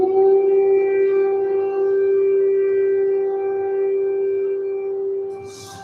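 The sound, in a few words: air raid siren sounding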